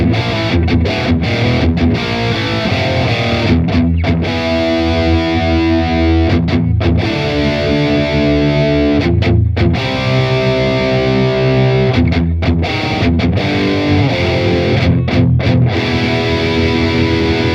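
Electric guitar played through a BADLANDER amp at very saturated, modern high-gain settings, thick distorted chords ringing out and sustaining between short choked pauses, loud and alone.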